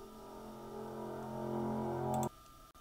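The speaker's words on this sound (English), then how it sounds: "The bowed guitar sounds like this," A guitar played with a bow and heavily processed into a sustained, swelling drone with steady harmonic tones, building in loudness before cutting off abruptly, leaving near silence and a faint click.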